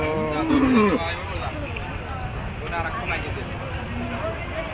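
A bull lets out a loud, drawn-out moo near the start, followed by outdoor cattle-market background noise and distant voices.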